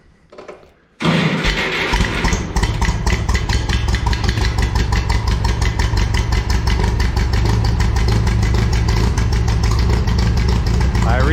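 A Minneapolis Moline A4T tractor with a freshly refitted fuel tank and injection pump catches after a quiet moment and settles into a loud, close, steady chugging run with a rapid even beat.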